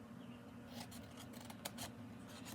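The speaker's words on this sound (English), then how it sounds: "So same thing, I'm gonna trim up to that score line at the bottom, and then I'm gonna remove this section" Scissors snip through a paper envelope box along a score line, with several quiet, close cuts and rustles in an irregular rhythm and no voices.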